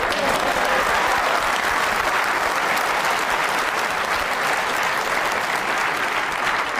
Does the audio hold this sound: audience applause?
yes